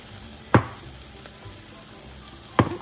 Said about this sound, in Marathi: इथे मी आता फायनली खेकडी टाकते